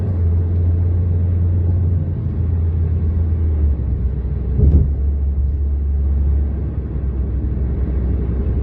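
A car drives fast along a road in Riyadh, giving a loud, steady low rumble of engine and tyre noise with a brief swell midway, heard from inside the vehicle and without talking.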